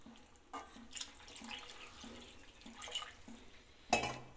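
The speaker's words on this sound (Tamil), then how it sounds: "தண்ணி கொஞ்சம் ஆட் பண்ணிக்கலாம்." Water from a tamarind soak being poured into a pan of tamarind curry, giving a soft, continuous trickle with a few light drips and a sharper splash near the end, fairly quiet and with no talk.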